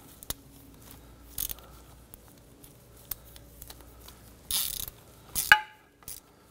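A ratchet on an extension snugs down crankshaft position sensor bolts on a 2011-2015 Kia Sorento 2.4L four-cylinder, giving sparse metallic clicks, then a few short close bursts of rapid ratcheting near the end.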